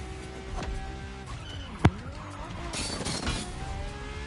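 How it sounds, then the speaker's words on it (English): A car in the racing video game The Crew Motorfest slides through a handbrake drift, with tire skidding, engine tone and a sharp impact crash midway, followed by more scraping noise. "I tapped the handbrake there and that still like wasn't enough."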